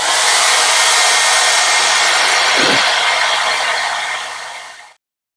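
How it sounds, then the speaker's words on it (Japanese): A hair dryer blows steadily and loudly at close range, drying aluminium foil applied to a Tamiya 1/32 P-51D Mustang plastic model kit, a continuous broadband whoosh that fades and cuts off near the end. "これはドライヤーでね、強制的に半乾きにします。"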